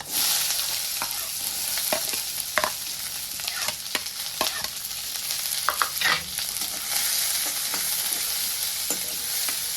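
Onion, with cumin and mustard seeds, fries in hot oil in a pan, giving a bright, steady sizzle broken by sharp pops and stirring scrapes, close and continuous with no talking.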